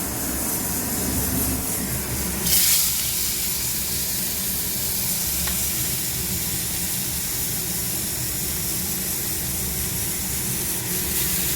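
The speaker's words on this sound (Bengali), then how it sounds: "একটু হালকা একটুখানি পেঁয়াজটা ভেজে মাখা মাখা একটুখানি করে নেবো" Onion and fish fry in a pan with a steady, close hiss that runs the whole time, briefly flaring louder early on before settling back to an even sizzle.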